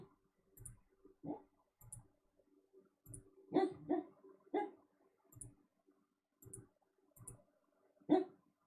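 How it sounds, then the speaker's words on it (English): A sleeping dog lets out soft, muffled woofs and yips in irregular bursts, faint and close, with light clicking sounds scattered between them. "You hear Bandit down here barking in his sleep."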